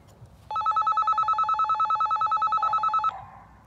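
A two-way radio's steady electronic warbling call tone rings continuously for about two and a half seconds, loud and close, then cuts off into quiet room noise.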